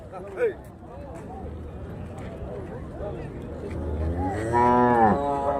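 Cattle moo at the Chintamani cattle market in Karnataka, with a long, loud low call near the end over steady market noise and someone talking throughout.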